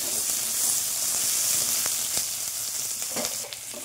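Chopped capsicum fries in a pan until golden brown, giving a steady close sizzle and hiss with a few light scrapes of stirring, alone without any voices.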